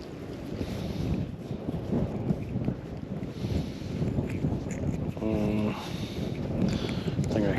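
Wind buffeting a microphone on a fishing boat out on open water, a constant rough rumbling roar with lapping water, under occasional talk.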